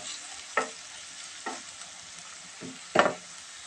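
Mashed tomatoes fry in a pan with a soft steady hiss while a utensil stirs them, giving four distinct scraping strokes, the last one loudest.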